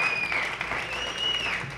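Comedy show audience applauding at a theatre, a dense, steady wash of clapping that holds at an even level for a couple of seconds.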